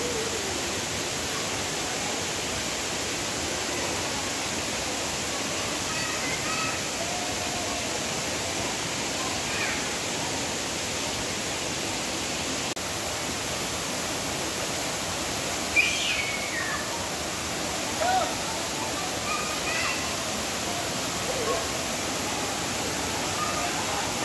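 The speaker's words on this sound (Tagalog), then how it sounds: "Malakas na ang agos." Strong water rushes steadily at a mountain waterfall resort in Surigao del Norte, a dense, constant roar that stays even throughout, with faint bird calls now and then.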